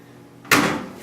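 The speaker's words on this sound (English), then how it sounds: "Okay, I'll shut my dryer door here." A clothes dryer door on a dryer test rig is pushed shut, giving a single firm thump with a short rattling tail after a quiet moment.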